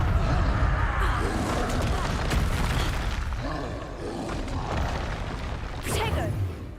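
Confringo blasting spells explode again and again in the Hogwarts Legacy video game, loud booming bursts that pile up over a busy, rumbling mix of combat noise.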